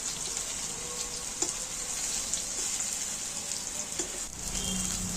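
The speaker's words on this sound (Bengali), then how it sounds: "পটলগুলো আমি ওর মধ্যে তুলে দিচ্ছি তেলটার মধ্যে পটলগুলোকে আমি একটু নাড়াচাড়া করে দিচ্ছি" Pointed gourd fries in hot oil in a pan with a steady, dense sizzle, and occasional soft clicks of stirring cut through the continuous crackle.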